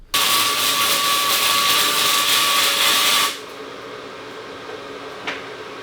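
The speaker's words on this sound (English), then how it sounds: "we are ready to start welding" Welding steel mounting tubes onto rock slider plates gives a loud, steady crackling hiss for about three seconds, then stops abruptly, leaving quiet shop background with a faint knock.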